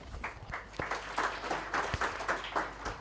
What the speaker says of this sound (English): A round of applause kindly for her.